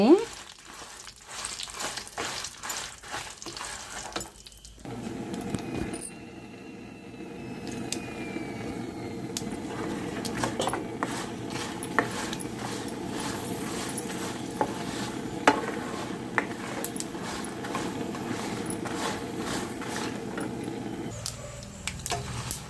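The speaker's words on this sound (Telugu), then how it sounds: "వేగిపోయినాయండి ఎండుమిర్చి మెంతులు జీలకర్ర ఆవాలు" Dry red chillies, fenugreek, cumin and mustard seeds frying in hot oil for a tempering, giving a continuous close sizzle with scattered pops and crackles that rises after a short quiet start.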